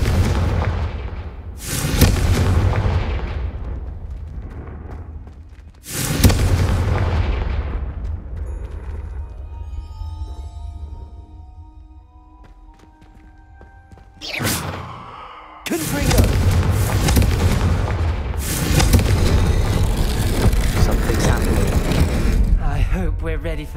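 The Confringo fire-blast spell in Hogwarts Legacy goes off as heavy booming explosions: two big blasts early, a quieter stretch with faint chimes and tones, then another sharp impact followed by a sustained roaring rumble.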